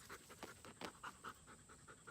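A dog pants rapidly and close during place training on a bed, quick rhythmic breaths repeating steadily over a faint high background hum.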